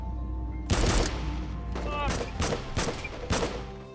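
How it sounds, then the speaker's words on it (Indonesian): Rapid bursts of gunfire from soldiers in an action film, several loud, sharp volleys in quick succession with echoing booms between them, up close and dense. "pasukannya langsung melepaskan tembakan bertubi-tubi"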